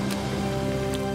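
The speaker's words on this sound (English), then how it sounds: "Sorry I led us into the rain, but we made it back together." Cartoon rain from a children's adventure show falls as a steady, close patter of drops over a faint humming tone, with no talking.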